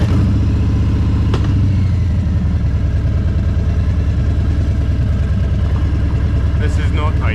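A Harley Davidson motorcycle engine idles loudly and close with a deep, uneven throbbing pulse on a steep hill, and a brief sharp noise cuts through partway.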